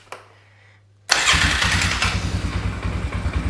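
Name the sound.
Polaris Scrambler 500 ATV starter engaging, engine starting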